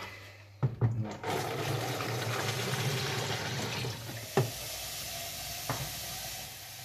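Water pours steadily into a hydroponics bucket being filled to about 8 liters, a continuous rushing fill with a few brief knocks and clunks, close and alone with no talk.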